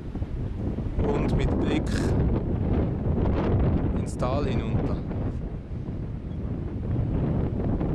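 Strong storm wind buffets the microphone in a continuous low roar, outdoors overlooking a valley during a severe weather event, while someone speaks over it throughout.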